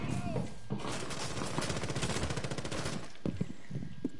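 Rapid video game gunfire, a dense automatic burst rattling steadily for about three seconds, then trailing off into a few scattered sharp shots.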